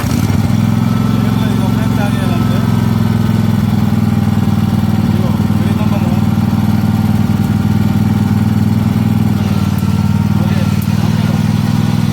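A riding tractor mower cutting grass at a garden company in Kuwait runs steadily throughout, its low engine drone loud and continuous with a faint background voice or two.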